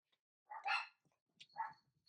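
Dogs barking indoors at home, a few sharp barks at moderate distance with a brief whimpering yip between, followed by quiet.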